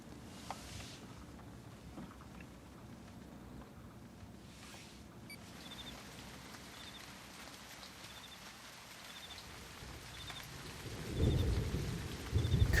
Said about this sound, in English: Cooper then comforts him with the sounds of a rainy storm in nature